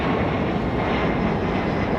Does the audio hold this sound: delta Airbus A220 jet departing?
yes